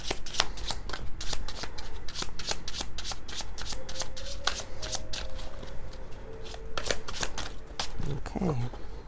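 A slippery tarot card deck is shuffled by hand in rapid riffling bursts, close and crisp, with a voice briefly speaking during the shuffling.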